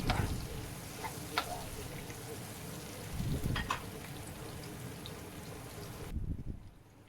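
Tomatoes frying in hot oil in a pan for a rohu (katla) fish dish, a steady close sizzle with intermittent scraping stir strokes and clinks, continuing unbroken throughout.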